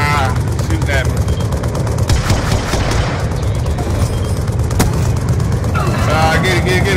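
Rapid pistol gunfire in a video game, a dense run of sharp shots with scattered louder cracks over a steady background, while players talk over it.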